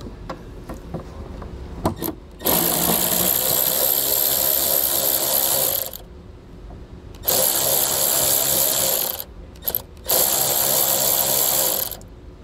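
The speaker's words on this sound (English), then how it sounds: "now we're going to need to remove a nut to gain access to removing our taillight." A power tool, likely a cordless drill or impact driver, removes a 10 millimeter nut behind the sound deadening to reach a taillight; three loud bursts of whirring run for several seconds each, with short quiet gaps between them.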